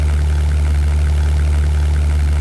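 The Bf-109 fighter's engine drones in the 1998 flight game European Air War, a loud, steady low-pitched rumble with no break across the short stretch.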